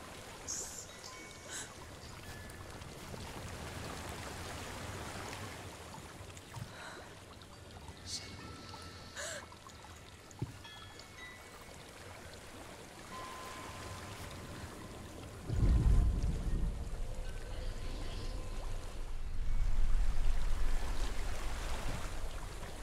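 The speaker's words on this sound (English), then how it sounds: "There's a waterfall." A waterfall in the video game Hellblade: Senua's Sacrifice, a steady wash of rushing water that swells louder partway through, with faint voices over it.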